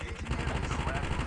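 Rapid M4 rifle fire from Call of Duty Mobile bursts in a dense, continuous spray for about a second, loud and close, mixed with game ambience.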